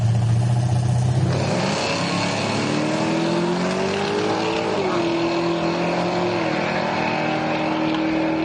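A 1991 Chevy Camaro with a big block engine launches down a drag strip, a loud sustained engine roar climbing in pitch after a brief lower rumble, close and dominant throughout.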